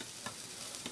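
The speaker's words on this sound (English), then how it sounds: "Look at that sizzle. Did you hear that? Relax, it's just the grill." Jersey Mike's hot subs sizzle on a grill in a brief burst of bright, crackling frying noise, close and steady with a couple of sharper pops.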